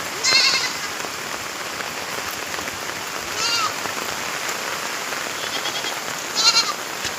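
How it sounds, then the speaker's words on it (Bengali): A baby goat bleats three times, short and fairly close, each call well apart from the next, against a constant hiss of rain falling on surfaces. "এই যে একটা ছাগলের বাচ্চা"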